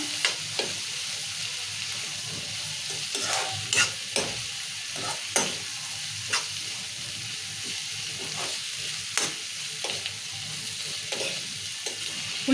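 Chana dal and onions sizzle in hot oil in a pan while a spoon stirs and scrapes them, a continuous close frying hiss punctuated by regular clinks and scraping strokes with no talking.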